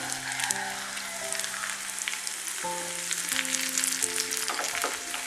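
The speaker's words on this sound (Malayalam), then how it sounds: "ഇനി ആ ഉള്ളി ഒന്ന് നന്നായിട്ടൊന്ന് മൂത്ത് വരണം." Chopped onion and a dried red chilli fry in oil with mustard seeds for a Malabar-style jackfruit masala curry, a close, continuous sizzle with crackling pops and a steady hum in the background.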